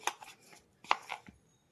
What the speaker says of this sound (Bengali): তো এরকম ছোট ছোট লেচি কেটে নেব।